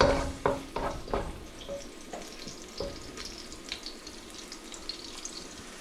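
Garlic fries in a pan as the base for binagoongan, a soft steady sizzle broken by a few sharp stirring knocks and scrapes at the start, with no talk.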